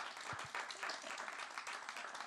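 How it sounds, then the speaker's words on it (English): A live audience applauds a speaker's announcement at a talk on fashion brands and fur, a dense, steady wash of clapping holding for about two seconds with no voices over it. "Get a round of applause for that."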